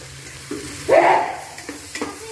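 A short scrape of stirring sounds over a soft sizzle as onion, capsicum and tomato fry together in a pan for a Kerala-style chicken gravy, loudest in a brief burst near the middle.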